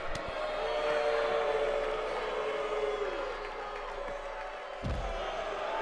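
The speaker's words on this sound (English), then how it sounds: "Crowd displeased." A displeased arena crowd in WWE 2K22 murmurs and jeers in a steady, dense roar, with a sharp thud near the end.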